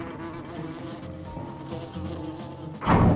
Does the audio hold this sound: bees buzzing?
yes